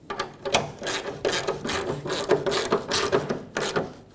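A wrench ratchets steadily while snugging a fuel tank strap nut on a 2008-2010 Ford F-450 Super Duty, with close, continuous rapid clicking and scraping over several seconds.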